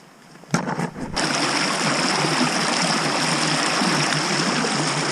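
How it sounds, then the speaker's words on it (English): Steady rain falls outside a tent camp on the Appalachian Trail in Georgia, a dense, even hiss that sets in after a second of rustling and handling noises and continues loud and unbroken. "It's raining outside."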